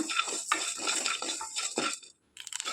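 Rice dry-roasting in a pan for Mangalore-style Marvai sukka, stirred with a utensil: dense scraping, rattling and clinking of grains against metal in repeated strokes, close and fairly loud, with a brief pause near the end.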